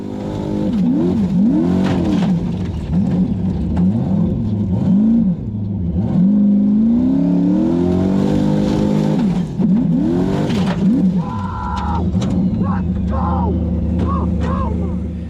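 Formula offroad car at an Icelandic hill-climb event in Hafnarfjordur, heard from inside the car: a loud engine revving hard in repeated rising and falling sweeps, close and continuous, with crowd or commentary faintly underneath.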